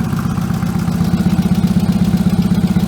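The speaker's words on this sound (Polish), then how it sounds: "I słyszę tam chyba, coś tam klepie, ale to chyba przez to, że ten silnik jest po prostu stary" An old Fiat 126p engine with turbo and three throttle bodies on two carburetors idles steadily with a rapid, regular low throb and a faint ticking clatter running through it, close and continuous.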